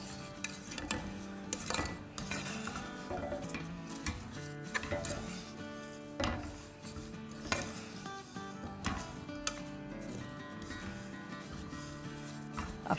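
A spoon scrapes and clinks repeatedly against a metal pot as sugar is stirred into sweet seviyan vermicelli, a busy close rhythm of stirring, rubbing and sharp taps with no talking.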